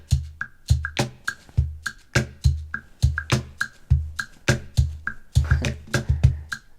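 GarageBand's virtual drummer Finn plays an extra drum pattern: crisp snaps and clicks over low thumps in a steady looping groove, close and clear.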